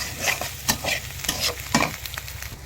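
Cumin seeds crackle in hot oil while a spoon stirs and scrapes the pan. Sharp scraping strokes stand out over a continuous sizzle, with no talking.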